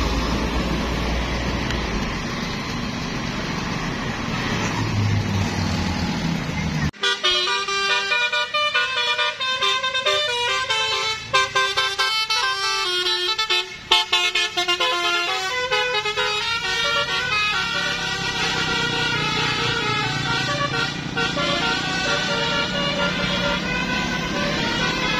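A Basuri musical bus horn on a sharp bend in Banjar, Indonesia, bursts into a loud, melodic multi-tone honking tune after several seconds of road noise and keeps playing in rapid shifting notes.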